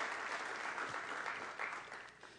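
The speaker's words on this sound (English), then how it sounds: "Please give them a round of applause" Applause from an audience at a state Senate committee session on science, technology, incubation and entrepreneurship held at RIT, honouring the staff; a steady wash of clapping that fades slightly at the end.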